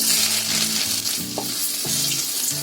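Whole spices—cinnamon, cardamom, cloves, cumin—and ginger fry in hot oil for chicken patiala, a loud, close, continuous sizzle with brief stirring scrapes and no voices.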